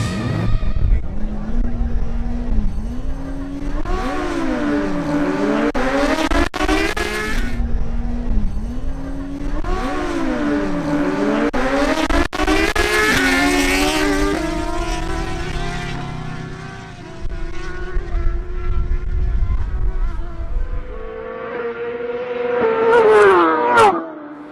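A Honda CBR1000RR sportbike launches on a drag strip with a loud high-revving engine that climbs through several rapid gear shifts, fades into the distance and then returns in a brief sharp rev near the end.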